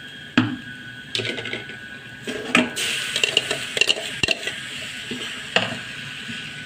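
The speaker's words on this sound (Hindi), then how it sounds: "इसको मिक्स कर लेंगे। अब इसमें टमाटर डालेंगे।" Tomatoes go into a frying pan for UP-style matar nimona and are stirred, with a spoon clattering and scraping against the metal pan in several distinct knocks over a soft background hiss, and no talk.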